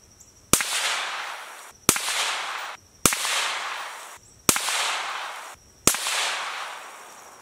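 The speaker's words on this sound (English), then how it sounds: "Here's a 5-round group I fired before a series of drop tests." Five single rifle shots fired as a grouping string, each a sharp loud crack followed by a short decaying echo, spaced about one to one and a half seconds apart, outdoors and without talk.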